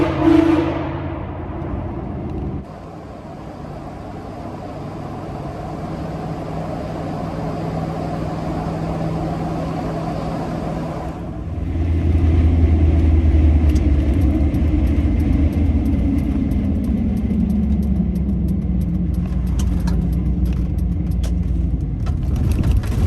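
A Toyota Sequoia drives off on a rough road, a low engine rumble and road roar building from a quieter start and holding steady, fairly close and continuous throughout.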